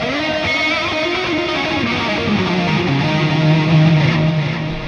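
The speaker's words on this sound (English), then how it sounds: "turn the reverb and delay on, and just start soloing away" A distorted electric guitar played through the STL ToneHub plugin plays sustained lead notes soaked in reverb and delay, loud and continuous, the notes smearing into a washy tail.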